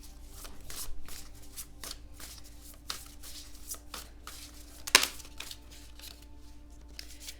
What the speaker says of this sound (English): let's get the rest of the cards out